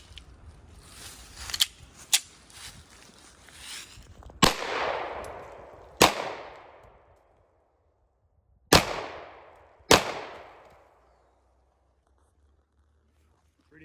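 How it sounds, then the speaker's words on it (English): Four loud, sharp shots from a 9mm 1911 pistol fired into a clay block outdoors, spaced unevenly with a decaying crack and echo after each, preceded by quieter clicks and faint talk. "I have a 9mm 1911, and we're gonna shoot one at the clay block"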